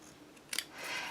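Scissors snip paper once for a mini album craft project, a quick, close, crisp cut followed by a soft rustle of the paper, with no talking.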